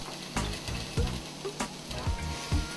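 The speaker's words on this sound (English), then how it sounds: "Saute the garlic in there with the onion" Garlic, onion and kale sautéing in a pan: a steady close sizzle broken by repeated scraping stirs and soft knocks from a utensil, with no voices.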